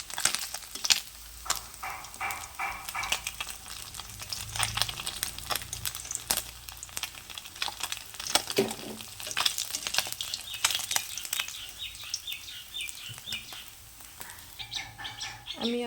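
Fish sizzles and crackles in hot oil in a pan, a steady crisp frying hiss broken by spatula stirring and scraping, with birds chirping in the background.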